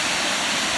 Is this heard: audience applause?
no